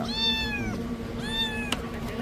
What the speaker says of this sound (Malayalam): പൂച്ചക്കുട്ടി